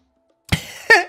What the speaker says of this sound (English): I'm just going to cough everywhere